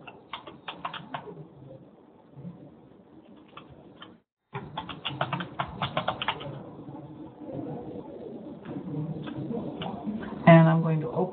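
Keys clatter on a computer keyboard as a web address is typed, a quick, close run of clicks that continues under a person talking.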